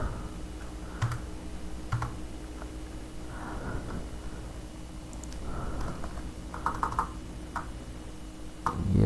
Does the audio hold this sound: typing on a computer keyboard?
yes